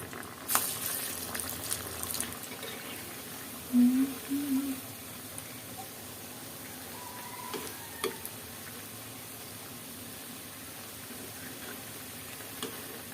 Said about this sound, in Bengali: এই যে পেঁয়াজু ভাজা শুরু করে দিলাম